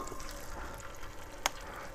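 Potatoes fry in vegetable oil in a pan made from a harrow disc over a campfire outdoors, a quiet steady sizzle with a faint crackle and one sharp click near the end.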